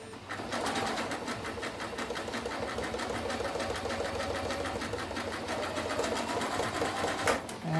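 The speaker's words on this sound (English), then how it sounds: "First, I'm gonna sew this side, and it's not catching, so I'm gonna give it a push." A sewing machine stitches a fabric clothesline coaster, its needle running in a steady fast rhythmic chatter close up, continuous throughout with a brief pause near the end.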